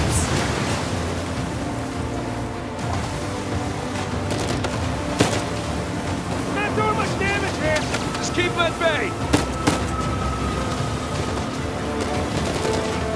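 A boat driving on water in the video game Uncharted 4, with the engine, splashing waves and wind rushing steadily and loudly, broken by bursts of gunfire, while people talk over it.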